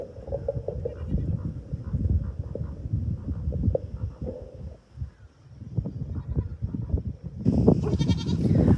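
Goats at an animal shelter bleat repeatedly at close range over a noisy, rustling background, with a louder burst of calls near the end.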